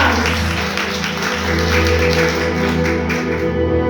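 A church congregation claps and applauds at a worship service, a steady wash of hand claps blended under loud sustained keyboard music.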